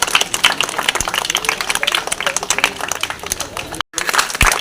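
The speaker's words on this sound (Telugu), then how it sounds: "పిల్లలందరూ చప్పట్లు." Children and school staff clap together at a felicitation ceremony honouring a donor, a dense, lively patter of many hands that runs steadily before a brief break and then resumes, with voices mingling beneath.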